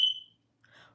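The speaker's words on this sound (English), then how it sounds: "if you hear that noise, that is the fire alarm." A fire alarm gives a short, shrill electronic tone that fades out within a fraction of a second. A faint, muffled sound follows after a brief gap.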